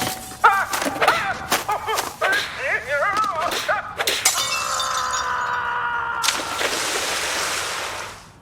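Glass panes in a greenhouse shatter repeatedly in Tony Hawk's Pro Skater 3, with sharp crashes and tinkling shards in quick succession, followed by a sustained tonal game sound and a hissy whoosh near the end.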